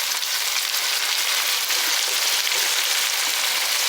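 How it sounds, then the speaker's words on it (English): Black beans sizzle and fry in a hot pan as part of a home-cooked diet meal, a loud, steady crackling hiss that fills the whole stretch without a break and with no voices. "So I'm adding now the black beans"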